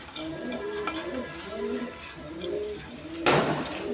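Silver pigeons coo in a farm setting with repeated soft, rolling calls at close range, and a short clatter near the end.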